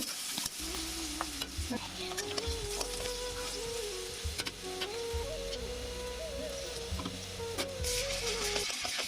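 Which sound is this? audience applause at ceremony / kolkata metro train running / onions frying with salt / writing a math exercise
onions frying with salt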